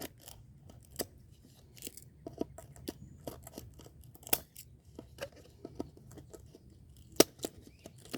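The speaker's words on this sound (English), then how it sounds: "Now let's just put some holes in the bottom. I just snip it away here." Scissors snip drainage holes into the bottom of a plastic garden container: a series of sharp, close cutting clicks at an irregular pace, with quiet crinkling between them.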